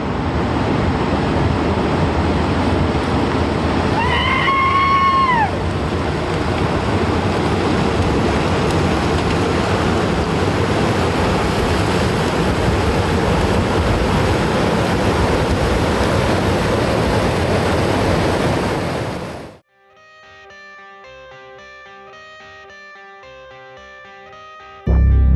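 River water surges back into its dry bed with a loud, steady rushing roar that holds for about twenty seconds, then breaks off abruptly into music.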